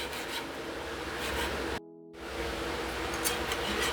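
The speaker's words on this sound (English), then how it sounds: "you want to get that whisk in properly for the gravy" A whisk rasps steadily against a pan as flour is worked into gravy for meatloaf, close and continuous with a brief pause partway through and no talk.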